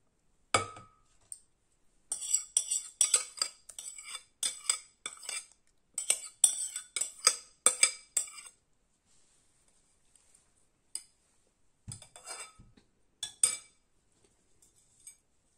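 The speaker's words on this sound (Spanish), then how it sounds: "Aquí voy a añadir mis 6 cucharadas de lino." Spoonfuls of flax seeds are added one after another in a home kitchen, making bursts of dry rattling and light clinking against a spoon and container, with short quiet gaps and a few scattered clinks afterward.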